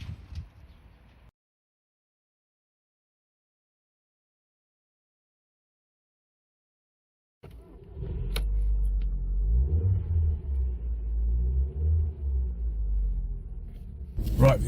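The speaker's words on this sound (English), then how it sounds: "let's put this car through its paces. Pulls very strongly, very, very strongly indeed." A 2002 Volkswagen Golf Mark IV drives and pulls hard under acceleration, its engine a loud, steady low rumble from inside the car that rises and holds for several seconds after a brief silence.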